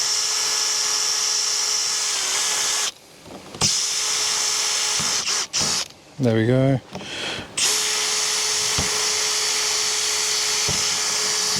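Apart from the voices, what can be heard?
power drill drilling pilot holes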